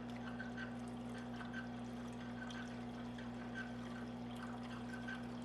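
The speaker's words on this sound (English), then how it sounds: "You can see I'm filling it up and it's drinking it up as fast as I can pour it in." Water pours into the reservoir of a running WEN wet/dry sharpening system, a soft splashing trickle over the machine's steady low motor hum, continuous and close.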